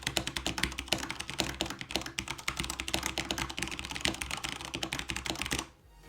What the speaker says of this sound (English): This is Cherry MX Browns, which is a little less clicky